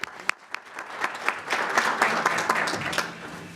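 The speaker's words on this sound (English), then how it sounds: "Let's give him a round of applause." An audience at a commission hearing on the 2020 census gives Columbus's mayor a round of applause. Scattered claps build quickly into full, moderately loud clapping that carries on to the end.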